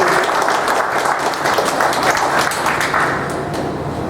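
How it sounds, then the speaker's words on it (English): Steady, loud applause from an audience fills the whole stretch, dense clapping with no pauses and no talking. "We'll have a round of applause for Jim."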